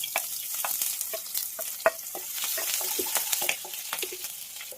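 Finely chopped garlic and green chillies frying in hot oil: sparse, sharp crackles and pops over a light sizzle, with occasional stirring scrapes, close and fairly quiet, with no speech.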